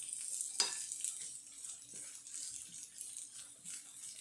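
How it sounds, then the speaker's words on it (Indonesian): Spices and chilies being sautéed in a pan for beef asem-asem, giving a soft, steady sizzle with faint stirring scrapes and small pops, quiet and with no talk. "Kita tumis sebentar sampai layu dan harum"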